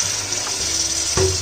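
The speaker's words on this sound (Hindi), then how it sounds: "हल्का सा पानी ऐड करेंगे और," Water is poured into a pan of dal makhani masala (cooked tomato and onion base), making a steady close splashing pour with a brief gurgle toward the end, and no one speaks.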